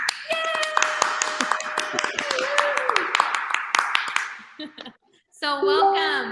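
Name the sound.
applause sound effect from a button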